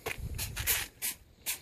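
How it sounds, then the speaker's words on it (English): Short hissing bursts of soap and water solution sprayed from a bottle onto a truck's surface and decal, about four quick close pumps in under two seconds. "Alright, so we're spraying down the truck surface,"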